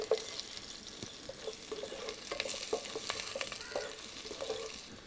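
Curry leaves, garlic and ginger go into hot oil already spluttering with mustard seeds for a carrot pickle, crackling in a busy sizzle full of small pops and spits at close range.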